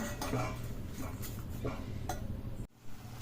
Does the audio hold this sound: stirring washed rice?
yes